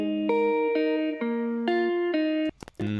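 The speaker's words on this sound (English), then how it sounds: "That reverb's beautiful." A synth music patch through a Valhalla reverb plugin plays a sequence of sustained tonal notes with a washy tail, followed by a short glitchy burst near the end.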